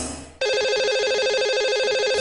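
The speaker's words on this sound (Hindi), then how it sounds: "तो चलिए इन्हें अब हम लगाएंगे कॉल और करेंगे इनसे बात।" Telephone ringing as a call is placed to a lucky caller on a radio show, a loud, steady electronic ring tone starting abruptly after a short lead-in and continuing without pause.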